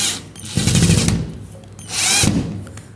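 A power drill drives a screw into a plaster ceiling bracket in two loud whirring bursts, the first about half a second long and the second shorter, with a quiet pause between them.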